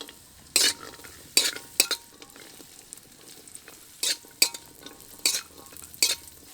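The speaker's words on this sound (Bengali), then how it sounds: "ঘিয়ের মধ্যে কাজু কিশমিশ দিয়ে ভেজে নেব।" Cashews and raisins fry in ghee while a spoon stirs them, giving bursts of scraping and sizzle at irregular intervals over a soft, steady frying hiss nearby.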